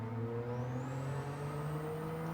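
A 1991 Suzuki Cappuccino kei car in Gran Turismo 7 holds a steady, fairly quiet engine drone with pitch climbing gradually as it revs toward the shift point during a race at Tokyo.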